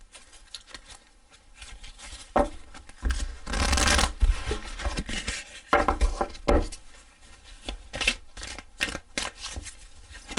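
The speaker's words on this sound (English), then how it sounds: "Now let me just pull a fairy card to finish off with." Tarot and fairy cards being shuffled and pulled by hand, heard as close, irregular bursts of riffling and soft slapping with quiet gaps in between, no talking.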